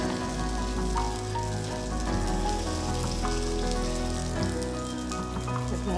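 Paniyaram batter sizzles steadily as it is poured into hot oil on a preheated pan, a dense continuous frying crackle that stays close and even throughout with no voices.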